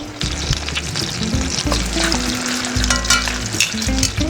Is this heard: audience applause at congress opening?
no